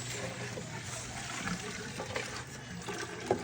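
Water is poured and drained in a kitchen as a steady rushing, trickling flow that runs continuously at moderate loudness, with one small knock near the end.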